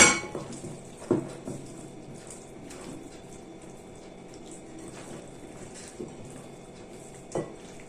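Marinated chicken pieces mixed with spices in a bowl, heard as quiet wet squelching with a few sharp clinks against the bowl, close and fairly soft.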